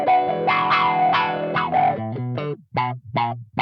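Electric guitar played through a Neural DSP Nano Cortex with heavy delay and a distorted, chorused tone: sustained chords giving way to choppy repeated stabs, loud and close with no talking.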